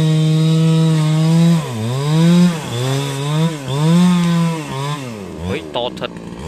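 A chainsaw cuts into a palm trunk in the mountain forest. Its engine whines loud and close, and the pitch sags several times as the chain bites into the wood, then sputters near the end.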